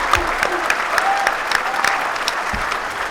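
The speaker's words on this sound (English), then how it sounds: "Give them a round of applause." An audience at a BronyCon convention panel breaks into loud, close, sustained applause lasting the full few seconds, dense clapping with a few louder claps standing out.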